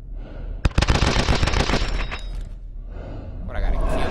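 Rapid automatic gunfire bursts from Call of Duty Advanced Warfare fill most of the clip, loud and dense, with a brief lull before more weapon noise resumes at the end.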